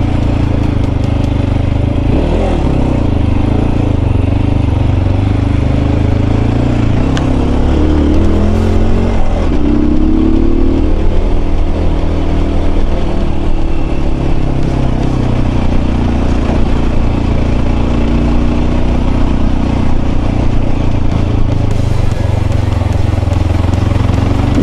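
A Mondial Rx3i motorcycle engine drones and revs while being ridden, a loud close continuous rumble with rising and falling pitch as the throttle changes, no voices over it.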